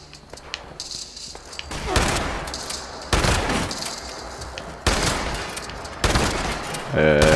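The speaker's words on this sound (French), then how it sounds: "Ah vous entendez des coups de feu?" Heavy gunshots boom in several spaced volleys in the video game Fallout 76, each a sharp loud crack followed by rumbling decay, with faint background noise between.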